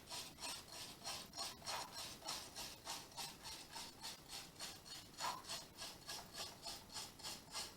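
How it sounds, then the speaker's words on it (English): A brush scrubs along the teeth of a saw blade treated with Boeshield Blade and Bit Pitch Remover, a quiet, rhythmic back-and-forth rasping of about two to three strokes per second, with no talk. "I'm moving this brush along the same angle as the front face of the teeth"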